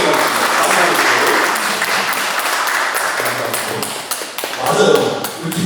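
A church congregation bursts into sustained applause during a worship service, a dense and fairly close crackle of many hands clapping, with a voice speaking over it.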